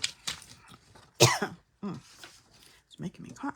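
A single loud, harsh cough bursts out mid-clip beside a craft table, set among quieter scattered voice sounds and small handling noises, with fainter throat sounds before and after.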